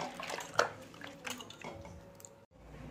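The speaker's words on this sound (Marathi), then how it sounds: "2-3 पाण्यात असं व्यवस्थित चोळून ही डाळ धुवून घ्यायची आहे।" Soaked moong dal being rubbed and rinsed by hand in a bowl of water, giving soft wet splashes and squishy drips close by, with a brief sharper splash early on and no talking.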